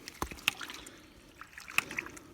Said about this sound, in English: Okay, so here's our ram pump.